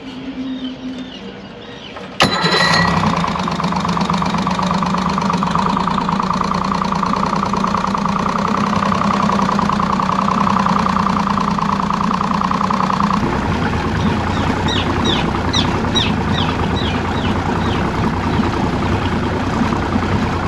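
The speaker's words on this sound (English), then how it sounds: "So I've replaced the coefficient file for the injector number 1, and I'm going to start it up." An Evinrude E-TEC outboard engine fires up after an injector replacement, a sharp start followed by a loud, steady idle with a ticking, knocking undertone that carries on for the rest of the clip.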